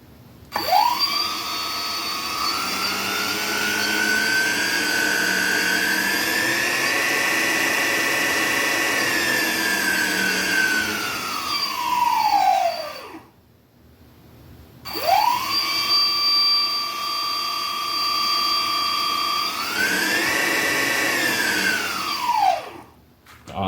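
Twin electric motors of a DIY river tube power unit whir loudly, spinning up to a steady rising hum, cutting out briefly, then restarting and running again, close and alone with no talk.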